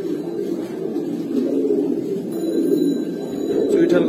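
A pair of Gola pigeons coos at a market stall, producing a soft, continuous low burbling drone that stays close and steady, with faint background voices underneath.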